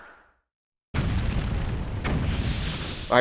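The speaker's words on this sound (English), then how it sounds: "He's done. He exploded." A boss plant blows up in Super Mario Galaxy's Good Egg Galaxy, a sudden loud explosion that bursts in after a moment of silence and rumbles on with a second blast partway through.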